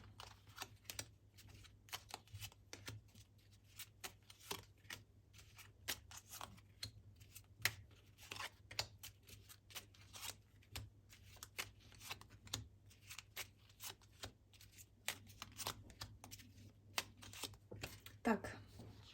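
Tarot cards are shuffled and dealt out for a Celtic cross spread, producing quiet, rapid papery riffles, flicks and soft slaps that run continuously at low volume with no voice over them.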